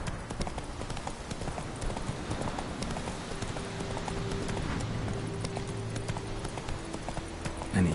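Roach, the horse in The Witcher 3 on PS4, gallops with a steady rapid clip-clop of hooves, close and continuous, over game ambience.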